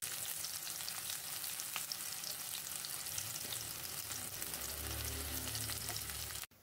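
Sliced shallots sautéing in hot cooking oil, a loud, steady frying sizzle with crackles throughout, ending abruptly.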